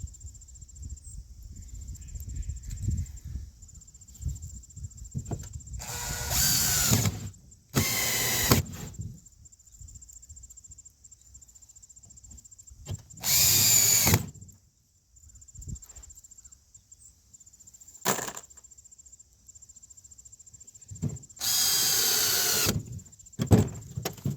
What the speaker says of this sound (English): And now I'll put some screws in. These are the 1 5/8" exterior wood screws.